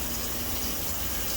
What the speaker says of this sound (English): So, let's turn on hot water.